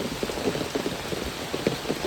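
Light rain falls steadily in rural Bangladesh near a pond and fields, a soft continuous hiss dotted with gentle patters of drops, with no voices.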